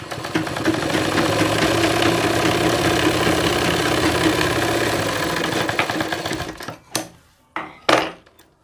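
A sewing machine runs a continuous loud whirring, rattling stitch through doubled, very thick army cloth, then slows and stops, followed by a few separate short bursts of running.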